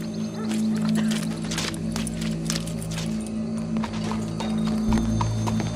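Horse in the video game Red Dead Redemption 2, with steady clip-clop hoofbeats and a snort or whinny over a low ambient game hum, fairly close and continuous.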